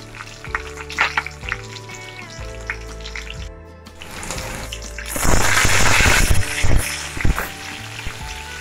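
Green chilli dropped into hot oil with garlic and cumin for capsicum bhaji, a loud sudden sizzle bursting up midway over quieter earlier pan sounds and clinks, then fading into steady frying crackle.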